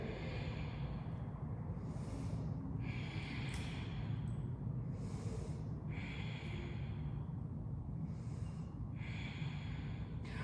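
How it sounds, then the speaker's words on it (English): Slow, deep yoga breaths drawn in and out in a steady rhythm, each airy inhale and exhale audible up close over a low constant background hum. "And let's take 3 breaths here."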